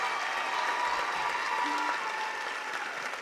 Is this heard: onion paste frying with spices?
no